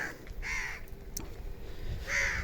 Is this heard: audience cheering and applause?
no